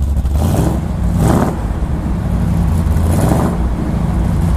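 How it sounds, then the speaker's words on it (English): A 1964 Chevrolet Chevy II Nova wagon engine revving, loud close rumbling idle lifted by a few quick throttle blips that swell and fall back, with a lopey cam sound. "Go ahead and rev it up."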